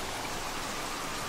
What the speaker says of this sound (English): It has been raining for over 90 days straight, and the waters are constantly rising.